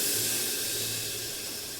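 A loud, steady hiss of hot tempering poured into tomato rasam, a continuous close sizzling burst that slowly fades a little over under two seconds.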